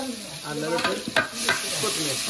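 Ginger-garlic and green chili paste frying with golden-brown onions for chicken pulao cooked over a village wood stove, a loud continuous sizzle with bubbling crackle and brief stirring scrapes throughout.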